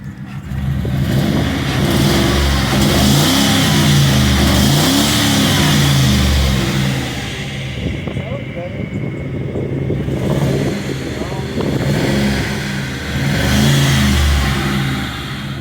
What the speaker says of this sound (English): let's give this thing a whirl, see if she'll fire up. Well, it'll fire up, but see if it's misfiring anymore.